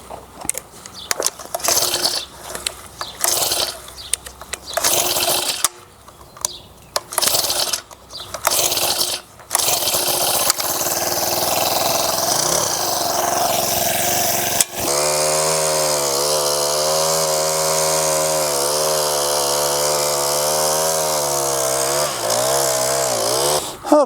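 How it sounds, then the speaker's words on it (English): A motorized tiller works a garden bed, first sputtering in uneven bursts and then settling into a loud, continuous engine drone at close range. There is no talking. "So I'm just going to prepare this bed, till it."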